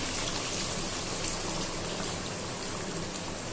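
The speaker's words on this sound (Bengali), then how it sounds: "এখন হালকা একটু জল দিয়ে" Water poured into a pan of Bengali-style chicken curry, a steady, hissing splash lasting several seconds at an even level.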